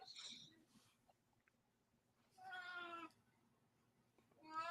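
A cat meows several times, drawn-out and wavering, with quiet pauses between the calls; close and fairly clear.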